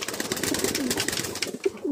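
Pigeons in a loft, among them a large red-and-white pair, give soft, repeated close-up coos over a murmur of other birds.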